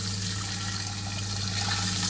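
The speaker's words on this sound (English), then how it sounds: "put half a gallon of water into the sprayer" Water rushes steadily from a tap into a pump sprayer, a loud, continuous hissing fill with no break.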